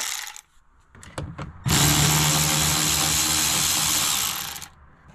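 A powered socket driver spins out 7mm mounting screws in one sustained high whir lasting a few seconds, preceded by short clicks and handling noises.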